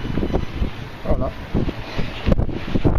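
Wind at sea aboard a sailboat in about 13 knots of breeze, sailing near 30 degrees to the wind, a loud gusting rumble buffeting the microphone, with a voice talking underneath.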